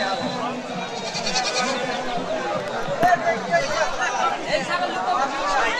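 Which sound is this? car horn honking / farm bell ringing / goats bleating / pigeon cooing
goats bleating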